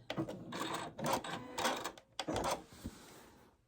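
A sewing machine stitching a fabric strip rug runs in several short bursts of rapid whirring, stopping and starting with brief pauses between runs, then falls quiet at the end.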